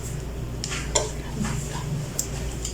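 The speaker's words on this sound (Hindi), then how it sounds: "किनारे से अच्छे से हिला लेंगे" Chicken chana pulao being stirred in a pot, a spoon scraping and clinking against the metal sides in a few scattered strokes over a low steady kitchen hum, close and moderately quiet.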